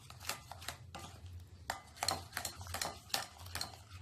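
Cheap homemade slime being stirred in a bowl until it clumps, a run of sharp scraping and tapping strokes from the utensil against the container, close and fairly loud, irregular in rhythm with no voices.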